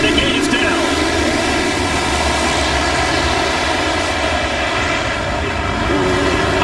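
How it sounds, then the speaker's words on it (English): Massed 450cc motocross bikes rev hard at the start gate of a muddy AMA pro motocross race, a dense, loud, steady engine roar filling the whole stretch. "The revs are up and the gate is down."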